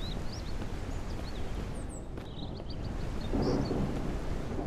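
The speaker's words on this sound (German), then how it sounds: "Und es regnet draußen, deswegen das Geräusch." Rain falling with rumbling thunder outdoors in the survival game Mist Survival, a constant low wash of rain with a deeper swell near the end, with faint bird-like chirps above it.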